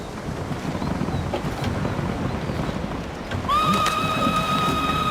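A horse in the video game Ghost of Tsushima gives one loud, wavering whinny partway through, rising over a steady rain-like wash of background noise.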